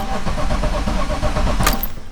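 A car's starter cranks the engine with a rapid rhythmic churning, loud and close, ending in a brief higher whine.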